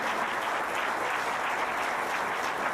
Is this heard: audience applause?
yes